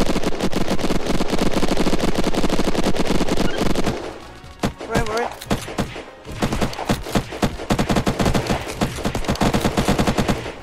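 A video game turret fires at attackers in dense, rapid automatic bursts, loud and continuous, with a short lull in the middle before the heavy rattling gunfire resumes.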